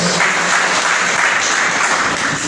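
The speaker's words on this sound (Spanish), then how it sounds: "Dale un aplauso a Él" A church congregation applauds during a sermon, a loud, close, continuous patter of many hands clapping, steady throughout with no speech over it.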